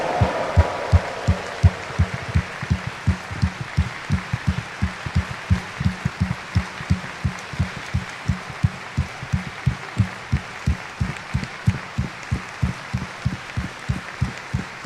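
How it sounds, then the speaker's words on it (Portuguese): Church congregation at a Catholic Mass clapping together in a steady, rhythmic unison beat, a long run of evenly spaced, heavy claps that keeps a regular tempo throughout. "Uma salva de palmas para Jesus"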